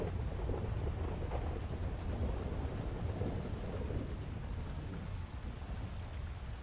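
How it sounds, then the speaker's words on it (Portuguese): Steady heavy rain pours in a Portuguese-language video game roleplay, a continuous dense hiss and rumble with no voices, constant and fairly loud throughout. "cada vez chove mais"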